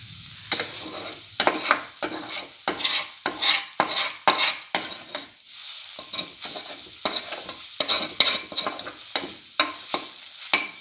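Scrambled egg stir fry is sautéed over a low flame, a spatula scraping and tapping the pan in quick irregular strokes beneath a light sizzle, close and distinct, with no voices.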